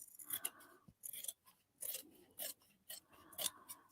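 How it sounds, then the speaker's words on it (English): Large scissors snip and trim foam with repeated crisp cutting strokes in irregular bursts, close and fairly quiet, and no one speaks. "So I'm just going to use my nice big scissors and trim back"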